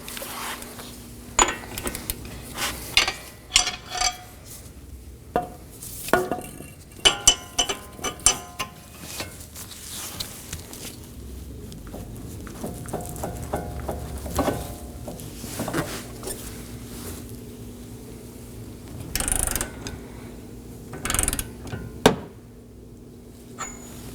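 A wrench works a CV axle nut on a 2018-2024 Chevrolet Equinox, with a steady run of clicking ratchet and metallic clatter close by and no talk.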